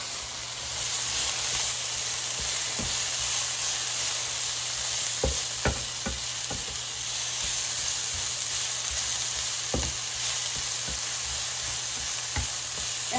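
Spicy eggplant seasoned with red pepper fries loudly in a pan, a steady dense sizzle with scattered knocks and scrapes of a utensil stirring the pieces. No one talks.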